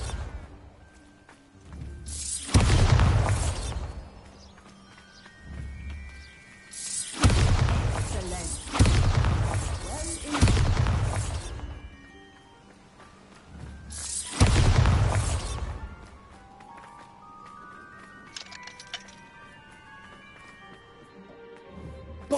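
Pumpkins blasted with the Bombarda spell in the Hogwarts Legacy video game: four loud booming bursts, one coming as a quick double, each trailing into crackling debris. Softer chiming magical tones sound between and after them, with no talking.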